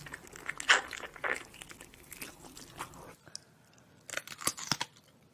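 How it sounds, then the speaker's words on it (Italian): Close, crunchy bites into a raw cucumber, then chewing: loud, wet crunches in short bursts, a brief lull, and a fresh flurry of chomps toward the end. "Ha morso un cetriolo!"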